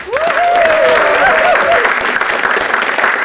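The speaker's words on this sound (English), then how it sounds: "Welcome, first of all, the big round of applause, Hugh Dan MacLennan." Applause from a small studio audience at a broadcast-style evening event, a brisk wash of clapping that swells and then tapers, with a voice briefly heard over the start.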